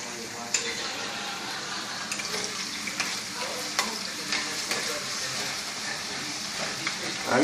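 Eggs frying in fresh oil in a pan are stirred, a loud continuous sizzle close by with occasional sharp scrapes and taps of the utensil.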